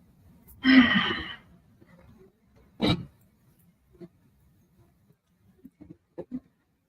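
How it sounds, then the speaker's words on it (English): A deep exhaled breath and a sigh during a slow, quiet breathing exercise, followed by a second shorter breath and a few faint soft breathing sounds, close up and with no talking. "So go ahead and take 5 more breaths."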